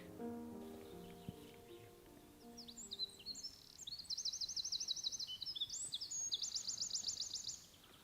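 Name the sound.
bird singing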